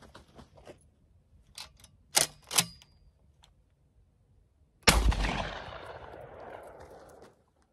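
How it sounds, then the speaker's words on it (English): Suppressed shotgun firing: a few sharp clicks and handling sounds, then one loud close blast with a long decaying tail outdoors. "Let's take a couple shots here."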